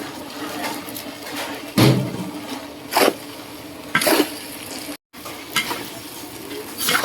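Pickled mustard greens and glass noodles stir-fried dry over high heat, giving a steady close sizzle broken by four or five loud scraping stirs of the spatula against the pan, with a brief dropout near the end.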